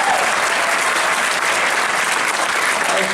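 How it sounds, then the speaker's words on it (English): An audience applauds the Girl Scouts at a state senator's oath of office ceremony in a high school, a dense and steady burst of clapping that fills the whole stretch at full strength. "Let's give them a round of applause."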